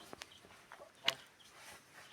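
Backyard hens cluck softly in a few sparse, quiet calls, with one slightly sharper note midway and some faint movement around them.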